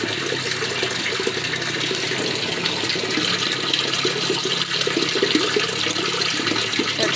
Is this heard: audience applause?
no